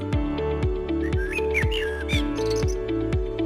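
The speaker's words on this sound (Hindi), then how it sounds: "चिड़ियों की प्यारी चहचहाहट" Birds chirp and tweet in a garden, whistled calls rising and falling over a steady rhythmic musical backing, close and fairly loud throughout.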